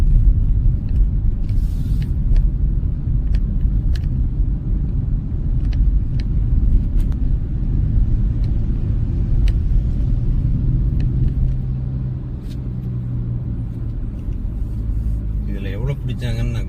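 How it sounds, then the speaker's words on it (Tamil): Steady traffic rumble at the Palavedu toll plaza on a busy Indian highway, with idling and slowly moving cars and buses producing a continuous low drone and occasional engine surges, close and loud. "ஸோ அதனால் இந்த இடத்துல எல்லாரும் ஏறுறதால டிராஃபிக்காக இருக்குன்னு நினைக்கிறேன் டோலில்."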